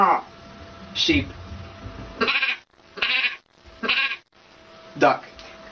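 A voice imitates a sheep, giving five or six short, wavering bleats with brief gaps between them, close and clear.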